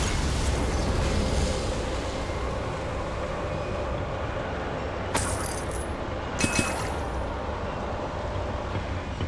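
A Confringo fire spell explodes in Hogwarts Legacy inside a boiler room: two sharp bursts land a second apart over a steady, rumbling industrial background hum.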